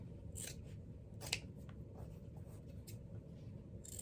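Scissors cutting through denim fabric from upcycled jeans up to a stitch line, a steady series of quiet crisp snips and slicing strokes, close and alone.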